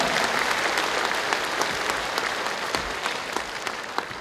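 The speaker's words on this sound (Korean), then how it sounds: "다시 한번 우리 김한길 공동위원장님께 뜨거운 격려의 박수 부탁드리겠습니다" A crowd at a New Politics Alliance for Democracy party rally in Jeju gives steady, dense applause to co-chairman Kim Han-gil. The clapping continues without a break throughout, with no speech over it.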